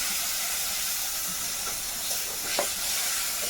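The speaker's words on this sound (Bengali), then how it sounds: "এই মশলাটা একটু ভেজে নিয়ে এবারে এর মধ্যে টমেটো দেবো" Spice paste frying in a pan on a clay stove in a village kitchen, a steady close sizzling hiss with a few soft stirring scrapes, alone with no talk.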